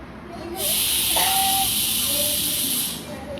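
A pressure cooker releases a steady, loud high hiss of steam that holds for about two and a half seconds before cutting back, with faint voices in the background.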